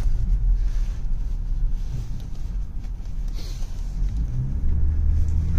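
A BMW with a B58 engine, warmed up, accelerates on a highway, heard from inside as a steady low rumble with wind noise, swelling louder toward the end.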